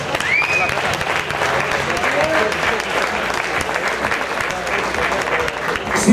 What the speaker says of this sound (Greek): Για να ακούω χειροκροτήματα.